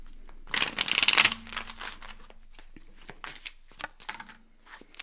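A deck of tarot cards is riffled in a quick, loud burst of fluttering snaps, then quieter slides and taps as the cards are gathered and squared.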